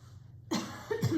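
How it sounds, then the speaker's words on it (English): Two or three close, sharp coughs break out after a brief quiet moment, loud and rough. "I've been coughing and drinking water"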